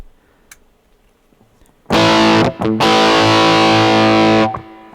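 A heavily distorted electric guitar through an EHX Metal Muff Pocket pedal with scooped mids rings out after a quiet start, with a loud sustained chord, a brief choke, then a long thick held chord that fades.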